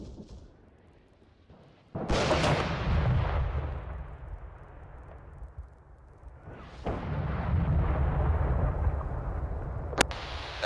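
Mortar rounds fire in a military video game operation: two heavy booming launches a few seconds apart, each rolling into a long rumbling tail, followed by a sharp crack near the end.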